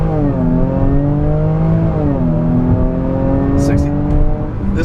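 A 2017 Jaguar F-PACE 35t AWD in sport mode, traction and stability control off, launches hard from a standstill, its engine note climbing steadily and loudly through the revs, with a brief high tire chirp near the end.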